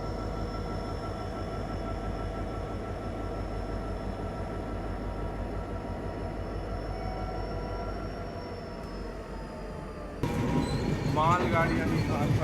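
Humsafar Express passenger train rolling steadily near Katni, a continuous loud rumble of wheels and carriages with a faint high whine, shifting to louder clattering and squeaks near the end.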